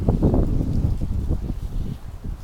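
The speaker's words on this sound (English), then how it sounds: "As you can tell, it's still windy." Strong wind blowing outdoors beside a storm-damaged block wall, a steady low roaring rumble with gusty swells buffeting the microphone throughout, no voices.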